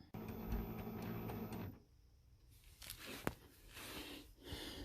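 An Epson 7820 printer initializes after a cartridge conversion: a rhythmic mechanical whirring with regular ticks runs for under two seconds, then stops and gives way to quieter clicks and a sharp snap nearby.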